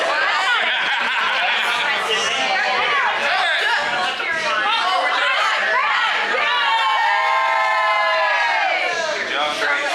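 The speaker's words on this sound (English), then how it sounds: "we're cheering to you" A wedding crowd cheers and shouts for Grace, a dense wash of overlapping voices, whoops and laughter held loud and close throughout, with children's shrieks and long rising calls near the end.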